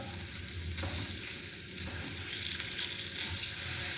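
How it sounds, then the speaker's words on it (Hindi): Chicken mince fries in a pan with onions, giving a steady, close, continuous sizzle with occasional stirring scrapes and no speech. "अब इसके अंदर कीमा ऐड करेंगे चिकन का और चिकन को पकाएंगे हल्का सा, इसका कलर चेंज होने तक।"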